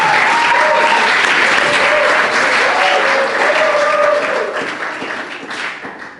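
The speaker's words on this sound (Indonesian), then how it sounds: "Tapi tepuk tangan supaya semangat." Steady applause from a crowd in an Indonesian gathering, dense and sustained at close range, fading slightly toward the end, with faint voices mixed in underneath.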